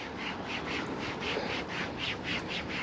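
A towel rubs Mothers Plastic & Trim Restorer onto a car's plastic trim in quick, even back-and-forth strokes, producing a soft rhythmic scrubbing close to the mic.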